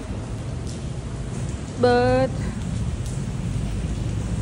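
Rain falls steadily outdoors near the Pasig River, a constant soft hiss beneath a single brief spoken word.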